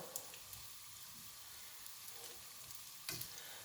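Courgette fritters fry slowly in a pan, giving a faint, steady crackling sizzle with a couple of brief louder pops and spatters and no voices.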